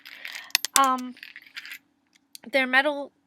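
Coated metal ring stitch markers in bright colors clinking together, short close jingling bursts with bright ringing tones and a silent gap between clusters.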